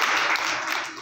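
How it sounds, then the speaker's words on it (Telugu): Children at a Sunday school vacation Bible school session clap their hands in a short, dense burst of applause that holds steady and then tapers slightly. "చప్పట్లు కొట్టండి"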